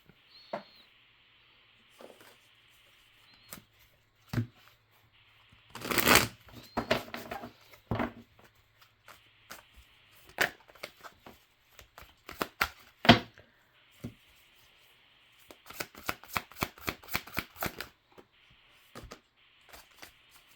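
Large, thick cards are shuffled by hand in scattered bursts of flicking, riffling snaps, close and crisp, separated by quiet pauses.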